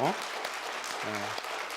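An audience at the Seocho-gu 2025 New Year prayer breakfast claps in a brief, dense burst while a voice speaks over it.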